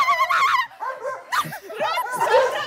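A dog barking and yelping in a series of sharp, close, excited barks with whimpering tones mixed in, fairly loud and continuous over a few seconds.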